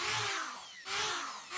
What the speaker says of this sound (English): So what I'm going to do is drill 4 holes through our baseboard